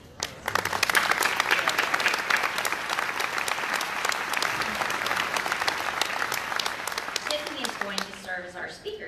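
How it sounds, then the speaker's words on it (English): Sustained, loud audience applause at a college scholarship ceremony for award winners, a dense crowd clapping steadily for several seconds before tapering off as it ends. "will you please stand so we can give you a round of applause?"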